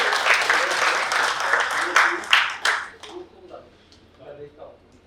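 An audience at an award function in Jamnagar breaks into applause to welcome a speaker, a dense burst of clapping that swells, then thins out and fades within a few seconds.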